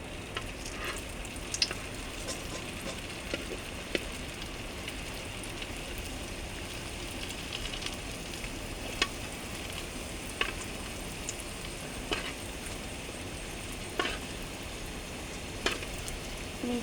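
Food frying in well-heated oil in a pan gives a steady, close hiss of sizzling, broken every second or two by sharp crackles and pops, with no voices over it.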